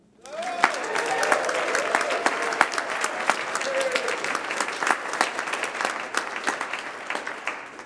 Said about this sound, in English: We've already been showing them our appreciation with the clapping